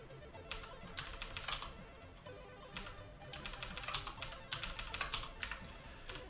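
Keys clatter on a BBC Micro computer keyboard in quick irregular bursts, some single taps and some rapid runs, fairly faint and close with no talking.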